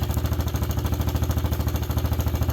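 A Suzuki LT125 ATV engine idles close by, a loud, steady rhythmic chugging with fast even pulses throughout.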